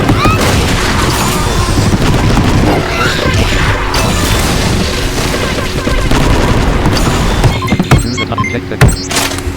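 Rockets launched and exploding in a video game, a dense barrage of loud booms and crashing blasts with rattling gunfire-like bursts, continuous for several seconds before sharper isolated hits near the end.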